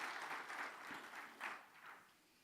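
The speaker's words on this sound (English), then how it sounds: "Y'all give Doug one more round of applause, please." A round of audience applause after a keynote at an industry workshop, steady clapping from a crowd that swells briefly and then fades out.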